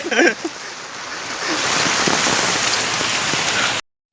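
Heavy rain with strong wind pours in a dense, steady hiss after a brief voice, then cuts off abruptly near the end.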